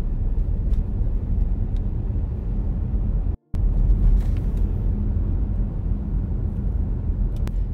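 Inside a car during a driving lesson, the engine drones with a steady low rumble and road noise as the learner driver eases off and then accelerates again, close and continuous with no talk.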